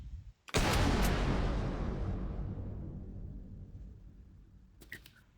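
A barrel blows up in a third-person shooter game after a sniper shot, a sudden loud blast that rumbles and slowly decays over several seconds, followed by a few faint clicks near the end.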